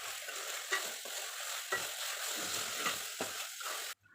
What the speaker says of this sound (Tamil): புதினா சேர்த்துட்டு ஒரு வாட்டி வதக்கி விட்டுக்கலாம்